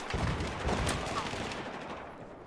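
Gunfire in the video game Battlefield 4 on PS4, played in online multiplayer, rattles in a dense, loud burst of rapid shots that fades slightly over a couple of seconds.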